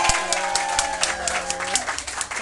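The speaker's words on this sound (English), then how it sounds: "Give yourselves a big round of applause." Party guests applauding at a 25th anniversary celebration, steady crowd clapping with music and tonal sounds layered over it, fairly loud and continuous throughout.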